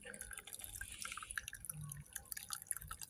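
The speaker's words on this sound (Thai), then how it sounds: "ชงมัชะดื่มก่อนนะคะ เขาบอกว่าให้ชงในน้ำอุณหภูมิ 80 องศาเท่านั้นนะคะ" Hot water at about 80 degrees is poured to brew matcha, a soft continuous trickle and splash of liquid with faint dripping, fairly quiet and close.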